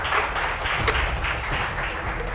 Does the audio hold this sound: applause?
yes